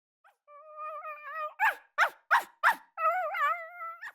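An anxious dog raising an alarm whines in high, wavering tones, then lets out four sharp, evenly spaced barks before slipping back into a long, anxious whimper, close and clear with no talking.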